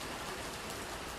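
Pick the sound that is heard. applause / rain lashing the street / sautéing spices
rain lashing the street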